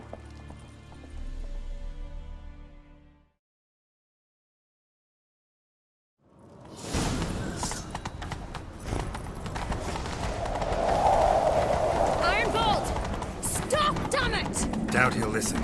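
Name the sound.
horses galloping in video game The Witcher 3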